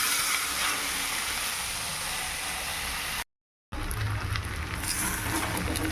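Chowmein frying and sizzling in a wok, a loud continuous hiss with scraping stirs, broken by a brief cut before the sizzle resumes, with no talk over it.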